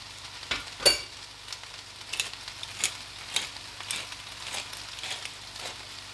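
Mushrooms seasoned with salt and pepper sautéing in a pan, a soft steady sizzle broken by light scraping and stirring taps.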